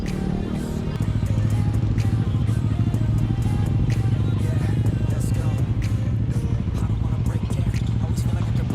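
A Yamaha Sniper 150 motorcycle engine drones steadily while riding on the road during the Cebu 600 ride, a close, loud buzzing rumble with wind noise; a voice speaks over it near the start.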